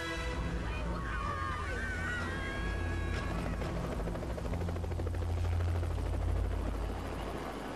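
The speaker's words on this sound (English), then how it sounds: "Adventurers are seconds away from boarding the helicopter and finally escaping Scorpion Island." A helicopter on a tropical island during a game-show escape, its rotor thumping and engine roaring loudly and steadily, mixed with wind and waves, while voices talk over it.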